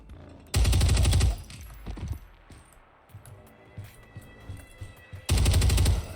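Sustained bursts of light machine gun fire in the tactical shooter Ground Branch, a loud long burst near the start and another at the end, with scattered shots and clatter between.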